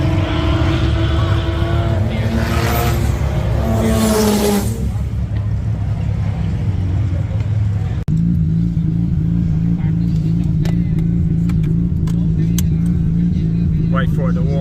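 A rotary-engined car idles while warming up, a steady low drone that runs nearly alone through the second half after voices and louder engine revving early on.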